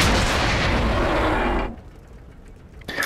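A tank cannon fires in the video game World of Tanks during a clan wars battle, one heavy booming blast with a long rumbling decay that fades to quiet, then a short faint noise.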